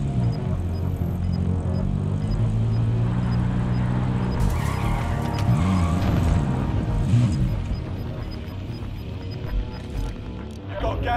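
Vehicle engine in Call of Duty gameplay, a steady low drone of driving that holds throughout, with a brief scraping, skidding burst midway and game voices and effects over it.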